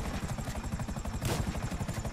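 Helicopter rotor chop in GTA Online, a steady rapid thumping beat held loud and close throughout with a brief burst of hiss midway, and no talk over it.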